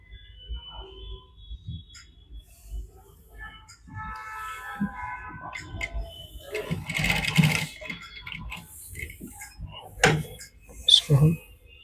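A tailor's sewing machine stitches a kurta neck strip, with short intermittent runs of quick mechanical whirring between pauses and soft handling noises, while a person talks quietly over the work.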